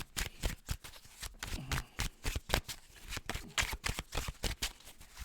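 Tarot cards being shuffled by hand, a quick run of crisp riffling bursts with short pauses between them, close and fairly quiet, with no talking.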